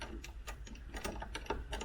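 Socket wrench ratcheting as it spins out a front seat belt bolt on a Range Rover L405, giving a quick run of close, sharp metallic clicks and ticks in an uneven rhythm.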